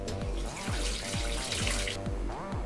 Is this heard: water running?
yes